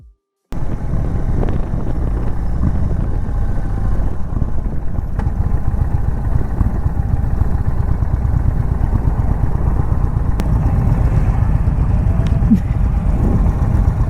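A 2022 Indian Chief Dark Horse motorcycle on a test ride, its engine rumbling steadily and loudly after a brief silent start, with wind rush over the continuous drone.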